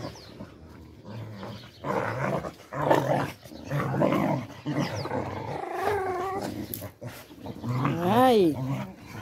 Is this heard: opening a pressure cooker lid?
no